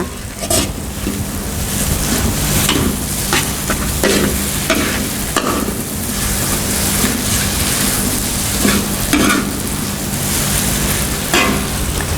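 Pad thai stir-frying in a hot pan as dried shrimp and tofu go in, giving a dense, continuous sizzle with scraping and stirring clatter throughout and no talking.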